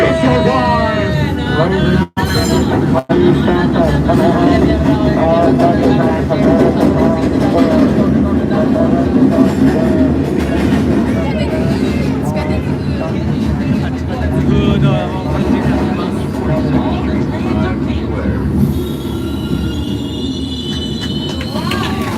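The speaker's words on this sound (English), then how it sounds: "the ride does a great impression of the subway" A loud, continuous rumble of a train ride with steady low roar and rattling, crowd chatter and voices mixed throughout, brief dropouts near the start.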